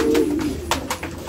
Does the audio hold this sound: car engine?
no